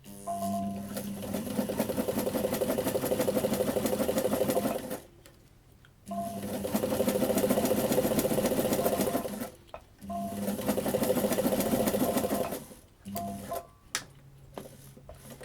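A sewing machine backstitches a tree strap in three long steady runs, each about four seconds, separated by short pauses as the direction changes, loud and close.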